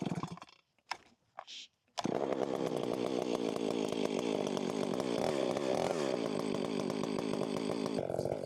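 A fuel-injected Stihl 500i chainsaw starts after a few short pulls and settles into a loud, steady, close running drone with small throttle swells.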